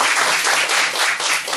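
A brief, loud burst of applause from a lecture audience, dense clapping filling the whole moment without pause.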